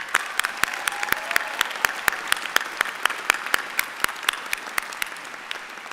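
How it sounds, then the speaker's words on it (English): Applause at a law school commencement ceremony, a crowd clapping steadily with crisp individual claps standing out, moderately loud and continuous for the whole stretch, no voices over it. "One more round of applause."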